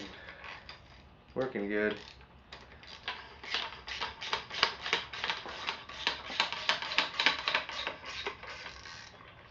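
A 3/8 drive ratchet loosening a part on a vintage Rock Shox fork, rapid rhythmic clicking in bursts across most of the clip, close and fairly loud, with a brief spoken phrase early on.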